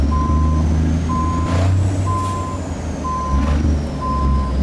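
Reversing alarm on an International LT truck in American Truck Simulator, evenly spaced steady beeps repeating about once a second over a low engine rumble, with short hissing bursts of air brakes.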